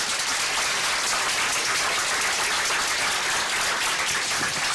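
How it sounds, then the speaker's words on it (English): Dense, loud applause fills the room at an event on fighting food waste and food insecurity, a continuous wash of many hands clapping at a steady level throughout, with no speech over it. "So let's give them a round of applause."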